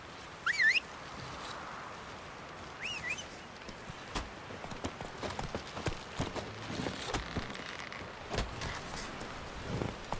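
Roach, a horse in The Witcher 3, trots along with rhythmic clip-clopping hooves, moderately close, while birds chirp faintly early on.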